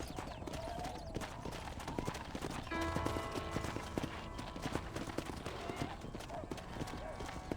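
Horse hooves clip-clop steadily in Red Dead Redemption, a rhythmic trot running throughout under spoken dialogue and game ambience.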